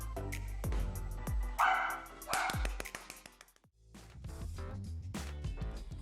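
A journalist's dog barks repeatedly during a live TV broadcast, loud yips and bow-wows over background noise, with a brief lull before the barking picks up again.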